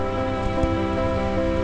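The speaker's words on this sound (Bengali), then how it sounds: "এই যে বৃষ্টি পড়ছে, দেখো বৃষ্টি পড়ছে এখন" Heavy rain falls steadily during a rainstorm, a dense continuous patter with no voices, loud and unbroken through the short stretch.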